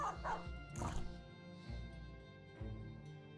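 A dog barks, yips and whimpers in a fantasy battle game, several short yelps spread over a few seconds, fairly faint, with no talking.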